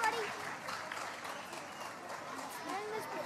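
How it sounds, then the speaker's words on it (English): Applause from an audience after a church choir's performance at a massed singing event in Sunderland, sustained and fairly steady with some voices mixed in. "let's have a big round of applause, please"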